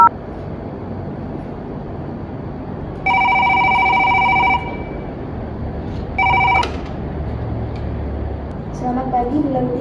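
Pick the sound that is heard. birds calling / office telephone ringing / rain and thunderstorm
office telephone ringing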